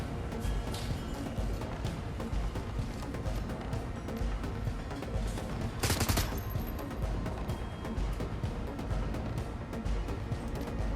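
Rapid gunfire from the Shadowrun: Hong Kong video game rattles on continuously over a dense, loud battle bed, with one brighter burst standing out near the middle.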